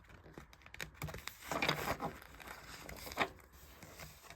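Tarot cards are shuffled by hand in a quiet room, a continuous papery riffling and crinkling that swells in the middle and settles again.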